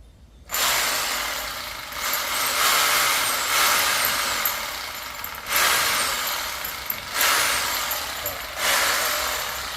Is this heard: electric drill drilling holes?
yes